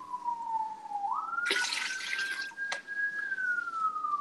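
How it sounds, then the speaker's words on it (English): An ambulance siren wails in the background as one smooth, slowly rising and falling tone, with a burst of splashing or running water briefly over it partway through. "Sounds like an ambulance in the background."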